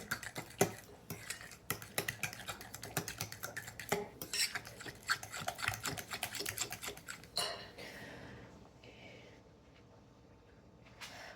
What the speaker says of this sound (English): a cup, maybe 2 of powdered sugar in here. So mix this up really nicely.